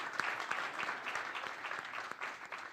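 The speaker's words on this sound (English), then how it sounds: "one more round of applause to our extremely brilliant panelists" An audience at a health forum session applauds its panelists with continuous crowd clapping, soft and somewhat distant, with a few louder individual claps standing out from the even patter.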